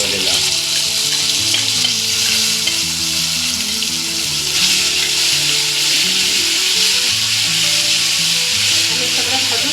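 Spinach paste for palak matar paneer frying and being stirred in a pan, a loud constant sizzle with a low rhythmic whirring layered underneath, close and uninterrupted.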